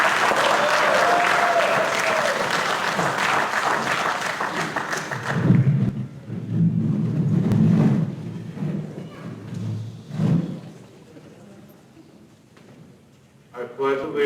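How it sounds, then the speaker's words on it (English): An audience at a school board meeting applauds a student called up to lead the Pledge of Allegiance, with steady clapping for about five seconds that fades into scattered claps, thumps and murmuring before a voice starts. "You can give him a round of applause."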